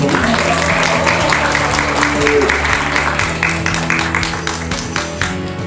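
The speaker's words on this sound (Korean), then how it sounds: "큰 박수와 함성 부탁드리겠습니다" Dense applause from a large conference audience in South Korea fills the whole clip, steady and loud, with a hint of cheering voices mixed into the clapping.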